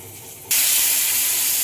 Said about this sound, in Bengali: দেখুন ফোড়ন দিয়ে দিলাম পটলের তরকারিতে জিরে, লঙ্কা, তেজপাতা।